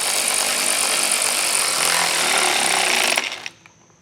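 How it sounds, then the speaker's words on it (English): A power tool whirs loudly and continuously while a 16mm socket snugs down bolts on a Blue Ox base plate fitted to a 2023 Jeep Grand Cherokee, then cuts off abruptly near the end. "with all those started, we'll take our 16mm socket and snug them down"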